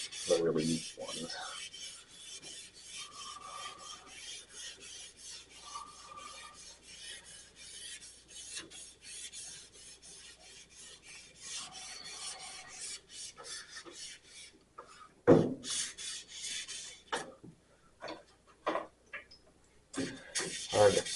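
A car's painted body panel is hand sanded before compounding, with steady soft rasping strokes at close range and a few louder scrapes near the end, alone without talk.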